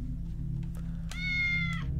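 A cat meows in the video game Tales of the Neonsea, one drawn-out, clear meow rising over a steady low background hum, close and fairly loud.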